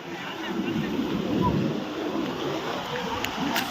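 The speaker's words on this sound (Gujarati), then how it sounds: "ઓહો આના જો ખાલી આમ મોજા જો" Sea waves break and wash steadily onto Madhavpur beach, a continuous rushing surf mixed with gusty wind buffeting the microphone.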